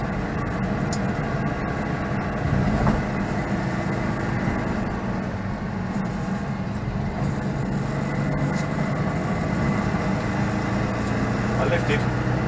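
The two-cylinder engine of a 1975 Citroen 2CV6 drones steadily as it is held at high revs climbing a switchback hill, a continuous, close, buzzing rumble with a voice speaking over it.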